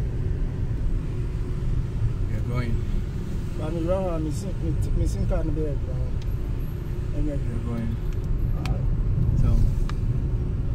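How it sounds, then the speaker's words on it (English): Heavy car traffic idles and crawls near the Paraguay border, a continuous low engine rumble filling the scene while someone talks over it and a few brief higher tones cut through. "There's huge traffic in here, and all of them are going to Paraguay"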